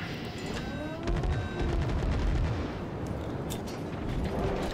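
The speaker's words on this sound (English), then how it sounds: "I thought the destroyer was shooting at me." In World of Warships, a destroyer's gunfire sounds as repeated distant booming thuds under a constant rumbling engine and sea background.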